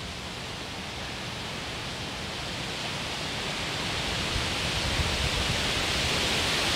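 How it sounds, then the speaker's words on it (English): Gusty wind from Hurricane Debbie's remnants sweeps through a garden as a broad, steady rushing hiss that swells louder toward the end, with no voices. "And hear that wind."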